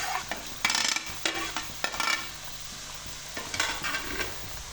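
Boiled potatoes and bamboo shoots fry in a wok for a bamboo shoot curry with dried hilsa, giving a soft steady sizzle broken by several scraping stirs of a spatula against the pan, close and without talk.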